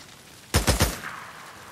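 Gunshots in Days Gone: a rapid burst of three sharp, loud shots close together, followed by a brief fading echo.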